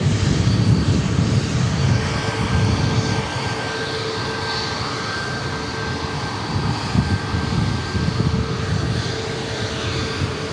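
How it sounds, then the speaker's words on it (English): A NetJets Challenger 350 business jet arrives at Dallas Love Field at night. Its engines make a loud, continuous roar that holds steady throughout with a faint high whine. "Next arrivals, a NetJets Challenger"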